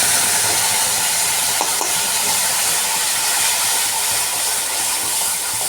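A spice paste of onion, ginger, garlic and tomato with cumin, coriander, chili powder, turmeric and salt frying in a pan gives a steady, loud broadband hiss, continuous throughout with a few faint clicks.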